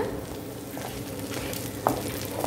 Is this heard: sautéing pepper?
yes